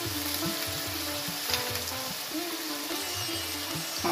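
Radish pieces frying in hot oil with cumin and green chilli, a steady loud sizzle with occasional stirring scrapes running throughout, close up and without talk.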